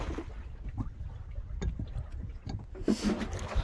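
A small fishing boat is hauled through water at night, giving faint, scattered splashes, knocks and rustles against a quiet, breezy background.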